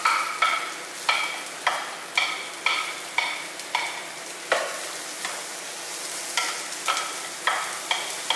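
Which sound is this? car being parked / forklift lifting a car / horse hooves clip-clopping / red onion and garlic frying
red onion and garlic frying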